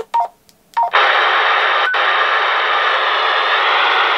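A Baofeng UV-82 handheld radio with squelch set to 0 gives a couple of short beeps, then opens into a loud, steady, unbroken hiss of static that fills the rest of the clip.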